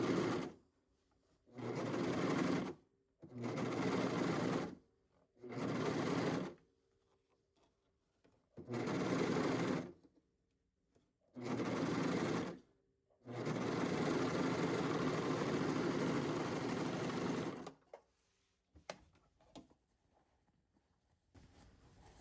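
A serger sewing machine stitches a zipper in several bursts of close, steady whirring, with short pauses between runs and one longer continuous run near the end.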